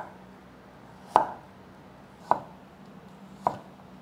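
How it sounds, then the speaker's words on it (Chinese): Three sharp knife chops through fresh ginger on a cutting board, evenly spaced about a second apart, close and clear over a quiet room. "把姜切片。"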